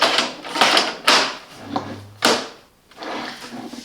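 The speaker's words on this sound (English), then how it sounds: "To remove the filter, just pull that up and remove the filter." A plastic filter is pulled out of a Silvercrest/Tronic dehumidifier and slid back in, giving several sharp scraping and clacking bursts with short pauses between them, close and fairly loud.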